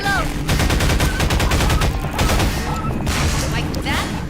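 Rapid video game gunfire crackles in fast bursts and single shots, loud and close, with a reload pause and a player talking over it.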